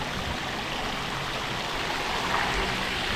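An electric bike rides slowly through flooded water, giving a continuous close rush and splash of water that stays steady and fairly loud from start to finish.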